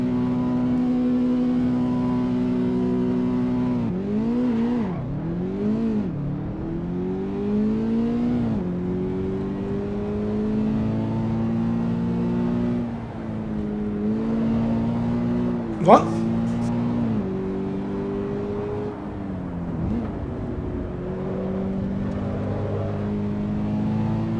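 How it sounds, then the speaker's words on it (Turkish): A car in Assetto Corsa EVO launches at full throttle, the engine climbing through repeated gear changes with rising and falling revs, loud and close. A voice talks over it. "Bu sefer dip gaz kalkacağım."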